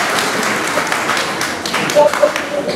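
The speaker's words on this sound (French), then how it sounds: "Vos applaudissements pour lui" An audience at a school ceremony in Senegal applauds for a retired teacher, Monsieur Assane Ndiaye, a steady wash of clapping across the whole moment with a voice speaking faintly within it.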